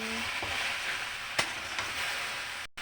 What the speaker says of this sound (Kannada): ಸ್ವಲ್ಪ ಮಿಕ್ಸ್ ಮಾಡಿ 5 ನಿಮಿಷ ಫ್ರೈ ಮಾಡಿದ್ರೆ ಬೆಂಡೆಕಾಯಿ ಪಲ್ಯ ರೆಡಿ.